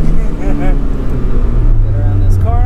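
A 1995 Dodge Neon with an aftermarket intake, exhaust and bigger cam growls loudly from inside the car while downshifting, the engine note rising and falling under a man's speech.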